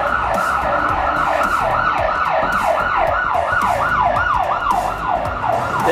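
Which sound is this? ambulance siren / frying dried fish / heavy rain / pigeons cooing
ambulance siren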